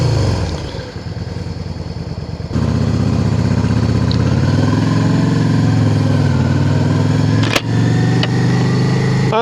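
Motorcycle riding through the centre of Hathersage village in the Peak District, the engine droning steadily up close after a quieter opening and rising in pitch, with a brief sharp knock near the end and no talking.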